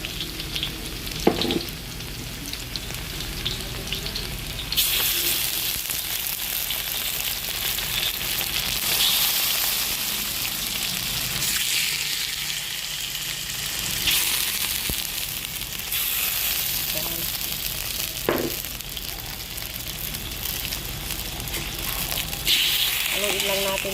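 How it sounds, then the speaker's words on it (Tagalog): Chicken pieces frying in a hot pan with tomato, ginger and onion, a steady loud sizzle with occasional stirring scrapes and clatters throughout. "Haluin lang natin yan para naprito siya."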